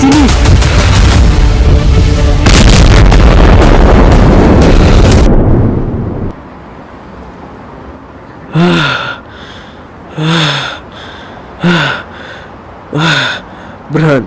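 A loud explosion in a drama scene, a heavy roaring blast with rumble lasting several seconds before cutting off, followed by a person's short gasping breaths.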